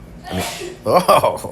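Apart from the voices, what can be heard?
sneeze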